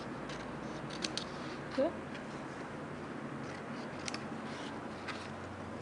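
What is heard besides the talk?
scissors cutting paper wings for a paper craft bird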